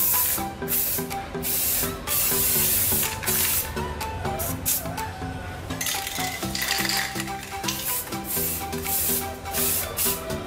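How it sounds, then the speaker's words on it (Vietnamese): Spray paint hisses in repeated bursts onto a homemade bamboo or plastic bow, with music playing loudly underneath throughout. "bây giờ bước cuối cùng mình sẽ đi sơn chiếc cung này"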